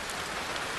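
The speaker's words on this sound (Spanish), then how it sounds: "este atardecer es la lluvia de verano de Pekín la que realmente está marcando el ritmo" Summer rain pours steadily in Beijing at dusk, a dense, even hiss of drops on surfaces with no break and no voices.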